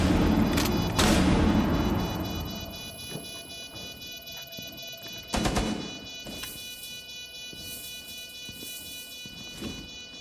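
A flashbang grenade goes off in the Rainbow Six Siege tactical shooter with sharp, loud bangs, followed by a sustained high-pitched ringing that lingers over quieter game noise.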